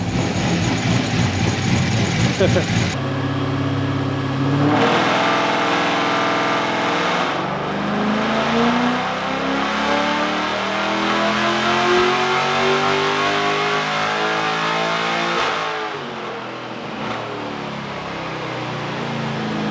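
An LS-engined car with rectangle-port heads revs hard on a dyno, a loud sustained engine note sweeping steadily upward through the run before dropping back toward idle, with no talking.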